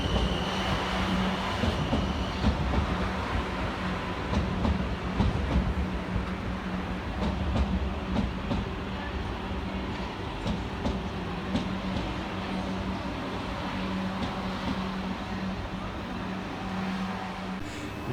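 A South Western Railway Class 444 train rumbles steadily at Southampton Central station, a low continuous drone with faint rail clatter and distant platform ambience, no speech over it.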